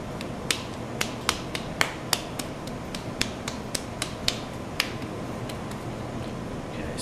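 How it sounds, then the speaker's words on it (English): Hands pat a lump of clay into a round ball before it goes onto a pottery wheel, making a close, steady series of about a dozen and a half crisp slaps. "pat the clay into a nice round ball"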